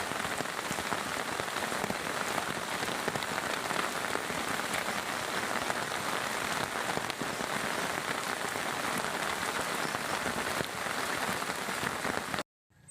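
Heavy rain pours steadily on a cornfield during a dove hunt, a dense continuous hiss of drops drumming on surfaces that holds at constant loudness, then cuts off abruptly at the end.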